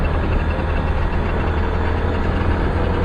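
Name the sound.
truck engine running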